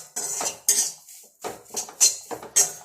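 Metal utensil scraping and clinking in a pan while henna leaves are roasted dry, five or six sharp, close stirring strokes in quick bursts with short pauses between.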